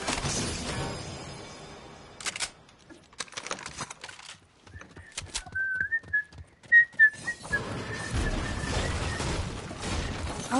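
A person whistling a short, wavering high tune in the middle, surrounded by clicking, tapping and broadband noise before and after.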